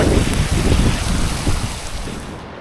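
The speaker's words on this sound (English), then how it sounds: "this is the first bit of heavy rain we've had" Heavy rain falling on a sailboat anchored off the Amalfi Coast near Capri, a steady dense wash of noise that fades slightly toward the end, with no talk.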